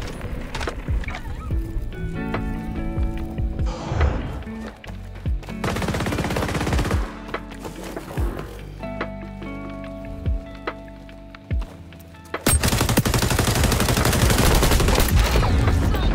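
Rapid automatic gunfire bursts from the online shooter XDefiant crackle loudly amid game music and effects, with a long sustained volley toward the end.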